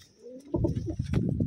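Pigeons coo in a short, close burst of low, throaty murmuring, with a faint background hiss before it.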